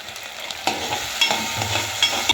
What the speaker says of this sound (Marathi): त्यात काजू देखील टाकून घेणार आहोत आणि ते पुन्हा दोन ते तीन मिनिटे परतून घेणार आहोत